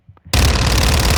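Submachine gun fire in Modern Warfare 2 (2022), a short hesitation then a sustained, loud, dense burst of rapid automatic shots with heavy low-end boom, fired continuously at stationary training dummies.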